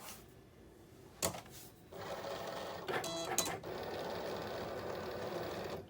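Cricut Expression cutting machine slicing vinyl: a near, steady whirring motor hum with short mechanical clunks and a couple of sharp knocks early on, moderately quiet in a room.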